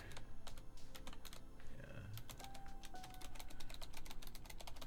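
Rapid, continuous clacking of a computer keyboard being typed on close to the microphone during an online Mythgard 2v2 card game tournament, with no voices heard.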